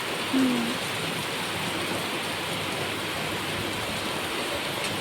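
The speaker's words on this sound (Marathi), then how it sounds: "सकाळ सकाळी चालाय पाऊस मस्त वेगळे" Morning rain, the first of the season, falls in a steady, even hiss throughout, moderately loud and constant, with a brief low tone near the start.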